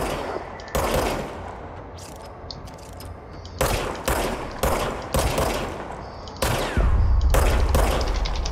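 Gunfire in the action video game Control, loud separated bursts of automatic shots with short gaps, the final stretch heavier with a deep rumble, no speech.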